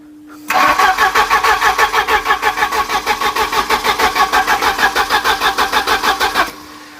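A Volvo 740 engine cranks steadily for about six seconds, the starter's rhythmic whirring pulses loud and close without catching, then it stops.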